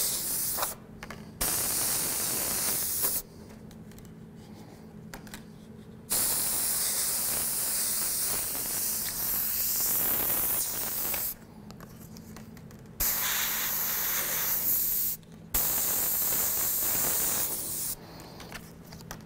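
An airbrush sprays paint over a stencil while building up color for realistic flames, giving a steady close hiss in several long bursts separated by short silent pauses.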